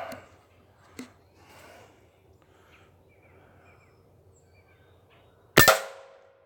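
An airgun fired outdoors at a 30-yard target, one sharp loud report near the end after a quiet stretch with a faint earlier click and breathy sounds.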